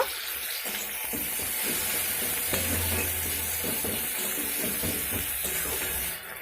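Tomato pieces with a ground ginger and cumin paste frying in a pan, giving a steady close sizzle and hiss with occasional stirring scrapes throughout, no talk.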